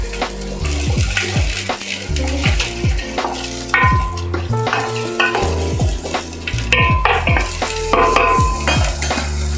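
Onions sauté in a pan on the stove, sizzling steadily while a utensil scrapes and clatters against the metal in frequent uneven strokes, close up and fairly loud.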